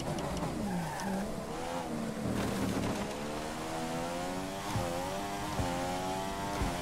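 Racing car in the F1 2015 video game spinning its wheels, a loud continuous engine whine with rising and falling revs and squealing tyres, steady and close throughout with no talk.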